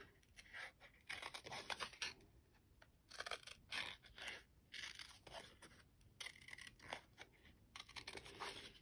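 Scissors snip and crunch through paper cardstock while a card piece is fussy-cut, giving quiet, close bursts of rustling cuts separated by short pauses.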